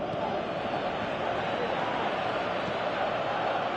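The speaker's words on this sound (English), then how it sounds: "you can hear how the crowd are reacting to this too" A large stadium crowd roars in a steady, dense wash of noise in the football video game PES 2018, with a commentator's voice faintly beneath it.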